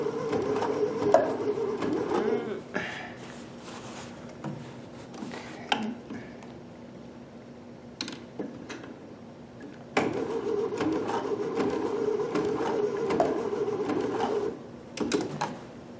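A Babylock Sashiko sewing machine stitches in steady, rapid runs with brief pauses and clicks between them. Its rhythmic mechanical chatter sits close and moderately loud.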